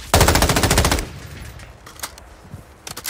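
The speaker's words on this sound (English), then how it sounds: "Their gunshot's very close to me." Rapid automatic gunfire from the Warzone video game, a loud close burst of many shots lasting about a second, followed by a few scattered distant single shots.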